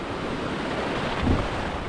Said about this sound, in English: A little solid, the waves here, so you gotta get past the break right over here